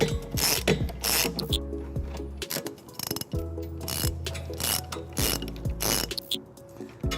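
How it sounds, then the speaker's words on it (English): A hand ratchet on a 5-inch extension tightens trailer hitch bolts beneath a 2018 Kia Sedona, giving close, rapid clicking bursts in repeated strokes with short pauses between them. "tightening up the driver's side here that I am using a 5-inch extension on my ratchet here."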